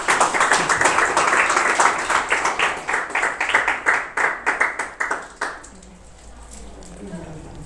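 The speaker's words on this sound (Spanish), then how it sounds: "Dale un aplauso al Señor." A church congregation claps in a steady rhythmic unison beat, loud and close, speeding slightly before stopping abruptly around five seconds, leaving quiet room tone.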